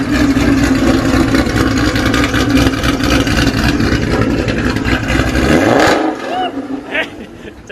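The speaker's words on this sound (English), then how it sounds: "Idle right off the bat sounds way better." A modified 1,200-horsepower wide-body Shelby GT500 idles loud and rough close by, a deep steady rumble that lasts several seconds before dropping away at the end.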